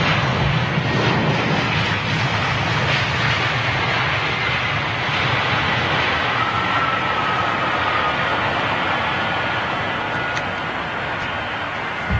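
Alitalia airliner landing at Heathrow, its engines a steady, loud, continuous roar with broadband rushing noise that holds nearly level throughout, no voices over it.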